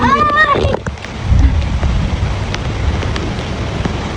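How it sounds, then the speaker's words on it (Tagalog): Gusting wind buffets the microphone while rain patters steadily, with a brief voice at the start and scattered sharp drips or taps. "umuulan na"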